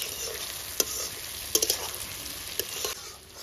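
Onion and tomato fry in a pan for a country chicken curry in a village kitchen, with a constant sizzle and a few quick scrapes and clatters of stirring.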